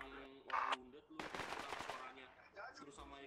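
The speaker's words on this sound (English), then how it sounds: "I'm hearing fire to the north, I think it's hostile." Automatic and single-shot gunfire in the military shooter Project Reality, a dense burst of shots in the middle with quieter scattered fire around it and voices over the top.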